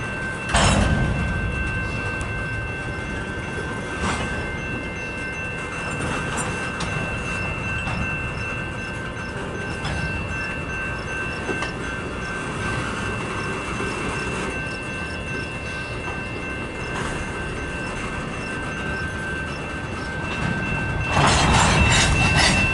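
CN freight locomotives 3045 and 8878 with CEFX 1020 rumble on the track in Battle Creek, Michigan, a steady low engine drone with rail clanks and a louder surge of movement near the end.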